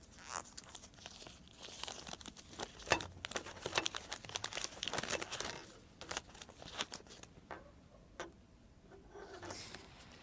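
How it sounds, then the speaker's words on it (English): Oil paper crinkles and rustles as it is wrapped around a 110 series injector valve assembly (F00VC01329): close, busy crackling with sharp snaps that thins into scattered crinkles toward the end, no voices. "we use this kind of oil paper to wrap it up."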